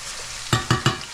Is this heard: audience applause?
no